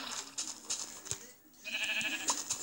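Sheep bleats in a video game, with a wavering harmonic bleat rising near the end over steady game sounds and brief clicks.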